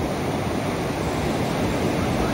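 Ocean waves wash steadily against the shore below the coastal cliffs at Torrey Pines, California, a continuous broadband roar of surf with some wind noise and no pauses.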